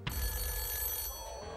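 A telephone bell on a TV game show set rings continuously in a loud metallic trill, then cuts off abruptly partway through.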